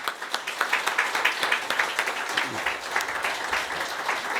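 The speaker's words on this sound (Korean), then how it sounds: "우리 처음 오신 분들 위해서 한번 박수로 환영하겠습니다" Church congregation applauding to welcome first-time visitors at a Sunday worship service, steady dense clapping from many hands throughout, fairly even and moderately loud with no pauses.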